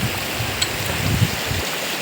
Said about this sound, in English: So now we have reached the river.